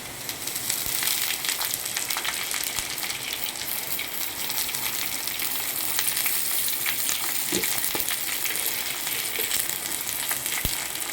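Curry leaves frying with browned onions in hot oil, a steady close sizzle with broadband crackle throughout and a few sharper pops near the end, no talking.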